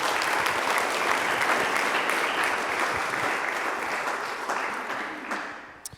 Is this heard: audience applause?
yes